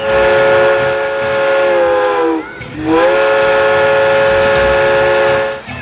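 A steam train's whistle blows long and loud, its pitch briefly dipping and rising again midway before holding steady. No voices.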